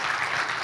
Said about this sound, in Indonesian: Boleh minta tepuk tangannya Bapak sekalian?